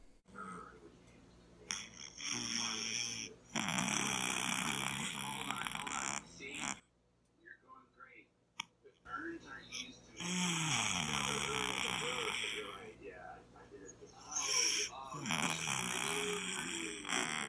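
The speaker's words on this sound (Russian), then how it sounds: "в каких случаях для кошки или кота храпеть это нормально" A cat snoring, with rough, rasping breaths repeating in a steady rhythm at close range, with a short quiet gap partway through and no talking.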